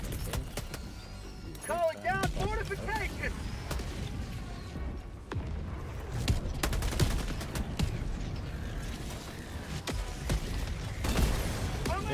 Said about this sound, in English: throw my Calling in an orbital strike. I'm throwing a barrage there too